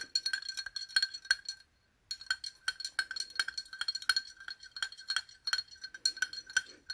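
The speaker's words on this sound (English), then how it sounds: "Taking a spoon, I'm gonna just stir it up so it's nice and mixed." A metal spoon clinks rapidly against a glass while stirring Liquid I.V. electrolyte powder into water, a steady run of bright close taps with one short pause, no talking.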